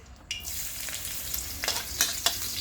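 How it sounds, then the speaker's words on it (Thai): Garlic frying in a hot pan for a gourd stir-fry, a bright continuous sizzle broken by several scraping stir strokes and spatula clicks. "เจียวกระเทียมให้หอมก่อน"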